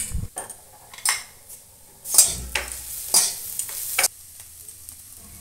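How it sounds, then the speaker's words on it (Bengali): Spices with chilli and turmeric powder stirred in a frying pan, several distinct scraping and clinking strokes of a spatula against metal over a faint sizzle, close and without speech. "সব কিছু দিয়ে এবার আমি ভালো করে নেড়ে নেব"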